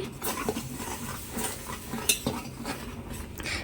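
A spoon stirs simmering milk and its skin of cream around a pot on low heat for custard, making repeated soft scrapes and light metallic clinks against the pan at a steady, close rhythm.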